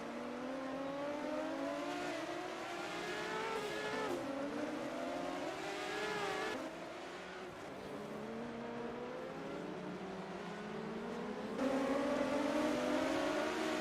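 A tight pack of ISO 1980 Procar race cars roaring around the Nürnberg circuit, multiple engines droning and rising and falling in pitch as they shift and pass, steady and moderately close with no talk.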